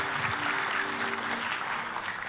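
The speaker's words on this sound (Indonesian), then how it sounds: "Tepuk tangan yang paling meriah buat Tuhan kita." A church congregation applauds during a sermon, producing a steady, dense wash of clapping that holds at an even level throughout, with a faint murmur of voices beneath it.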